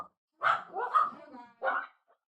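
Puppies bark and yip close by in an indoor room during a meeting, a few short bursts with a brief pause between them.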